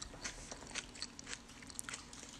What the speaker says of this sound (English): Oh, there's the popping.